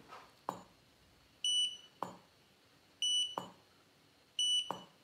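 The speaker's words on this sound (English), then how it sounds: "I'm gonna turn it this way so you can hear the beep" A Godox AD400 Pro studio flash gives four short high electronic recycle beeps, each with a sharp ringing tone, about once a second between faint clicks in a quiet room.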